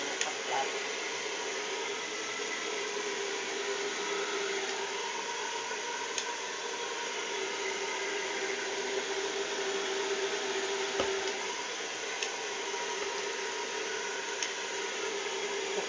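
A newly unboxed hair dryer blows steadily for the whole stretch, a continuous airy whoosh with a faint motor whine that holds an even, moderately loud level.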